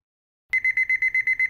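An alarm clock goes off after half a second of silence, sounding a rapid run of about eight loud, evenly spaced electronic beeps at a single steady pitch.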